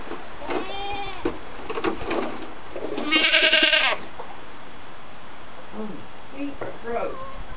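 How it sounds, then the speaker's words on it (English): Goats bleat in several short, separate calls out in the open, with one louder burst in the middle. People talk in the background, and no clear knocking on a gate stands out. "I think the goats keep knocking down that gate."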